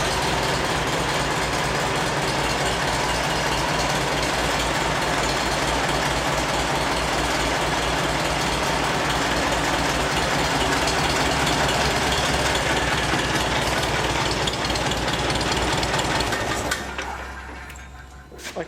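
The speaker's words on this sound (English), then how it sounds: "this is a 1952 Farmall Super C" A 1952 Farmall Super C tractor engine idles steadily and loudly nearby with an even low rumble and knock, cutting off near the end.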